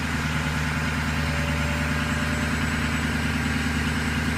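A cold engine idles in a steady, even drone, loud and close, with a faint high whine running above the low rumble throughout.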